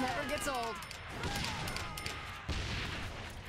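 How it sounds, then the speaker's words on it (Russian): Gunfire in the Saints Row: The Third video game rattles off in quick bursts over game effects and background noise, with people talking at times. "Че ты стреляешь, ебать?"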